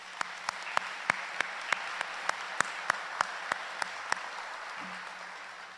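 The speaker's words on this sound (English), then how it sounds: "please give a collective round of applause for that group" Audience at a summer commencement ceremony applauds a group of organizers, a steady wash of many hands clapping with a few sharp, louder claps standing out at a regular pace, moderately distant and with no talking over it.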